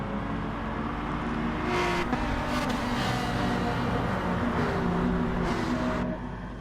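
A pack of race cars roars away at the start of a GT Sport race, engines droning loudly and continuously with overlapping revs and whooshes of cars passing close by.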